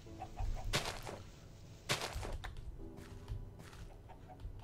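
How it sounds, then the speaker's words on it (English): Chickens cluck and squawk in the video game Minecraft, several separate bursts with sharp loud calls near the start and middle, then softer clucking, with no speech. "shut up, birds"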